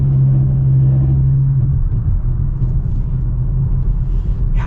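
A 2022 Volvo C40 Recharge Twin Ultimate electric SUV drives along a canyon road, giving a steady low rumble of tyre and road noise with a faint motor hum, close and continuous.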